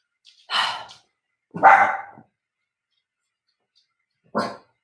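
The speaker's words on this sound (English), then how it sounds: "You don't have to bark at the door." A dog barks at the door three times: two close, loud barks about a second apart, a long quiet gap, then one last bark, with no talking.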